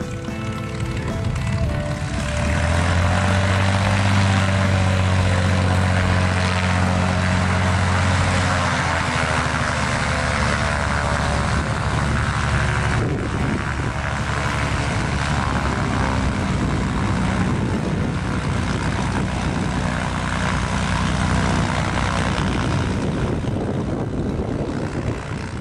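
An Air Shark 260 amphibian airplane's propeller engine drones loud and steady in flight, a continuous throaty roar that holds unbroken from start to finish.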